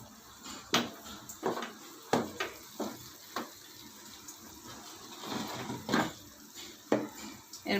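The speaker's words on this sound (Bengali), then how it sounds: "রেখে আমি এটাকে নাড়িয়ে দিয়ে ঢাকনা দিয়ে ঢেকে রাখবো 4-5 মিনিট।" Metal clanks of a spoon against a pot and the knock of a lid being set down in a home kitchen, several sharp strikes spaced out over a low background hiss.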